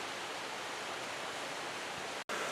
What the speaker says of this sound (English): creek's up a little bit, still snow thawing